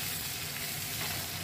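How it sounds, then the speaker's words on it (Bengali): Onions frying in a wok (kadai) for a bitter gourd dish, a loud dense sizzle heard close and steady through the brief moment, without talk. "এবার উচ্ছের যে সবজিটা বানাবো সেটার জন্য কড়াইতে পেঁয়াজটা দিয়ে দিলাম।"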